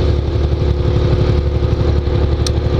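Exhaust of a Yamaha XJ6 motorcycle while riding, a loud, close, steady low-pitched drone with a rapid pulsing throb that holds an even pace throughout.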